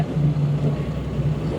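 Steady low drone of a canal tour boat's engine on a Copenhagen canal trip, a close, continuous hum with no voices.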